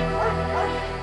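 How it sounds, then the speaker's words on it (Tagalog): A dog in a Philippine neighborhood at about one in the morning yips and barks, its calls blurring into a steady, loud stretch over a constant low hum. "nagising siya sa walang tigil na mga tahol"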